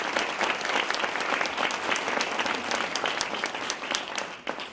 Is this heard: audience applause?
yes